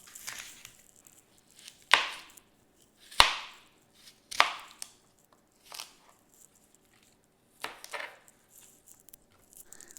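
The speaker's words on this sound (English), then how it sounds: "We're going to use 8 sticks of celery. Slice those up." Celery sticks sliced on a cutting board, a handful of separate sharp knife chops spaced a second or two apart, close and crisp against near silence.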